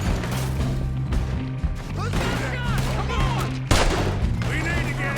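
Gunfire in Red Dead Redemption 2, a series of sharp shots and impacts ringing out over a busy game soundtrack with a droning music bed, one louder blast near the end, mixed under game dialogue.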